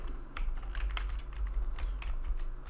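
Quick, uneven bursts of typing on a computer keyboard, close and clicky, with a low steady hum underneath and no talk.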